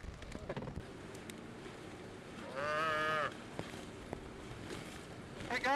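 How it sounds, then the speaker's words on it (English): A cow moos once, long and clear, at a moderate distance in a flooded area during Hurricane Isaac in Louisiana, amid background noise and a few thumps, with a person talking faintly. "Why is there a cow here?"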